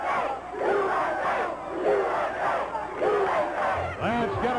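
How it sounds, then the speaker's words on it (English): A wrestling arena crowd chants "USA" in a loud, rhythmic, repeated cadence, filling the space with massed voices. "Yeah, the crowd chanting USA"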